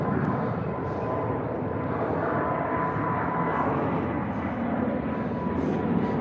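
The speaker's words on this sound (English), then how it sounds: "KLM with the Embraer E195." A KLM Embraer E195 airliner at Heathrow gives a steady, moderately distant jet roar, broadband and even throughout with no other sound.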